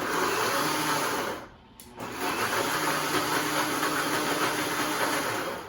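A blender on a light blend of beans and onions for a breakfast taco, a steady loud whirring motor running throughout with one brief dip partway through, no talk.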